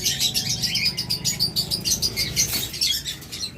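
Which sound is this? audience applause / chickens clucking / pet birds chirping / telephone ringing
pet birds chirping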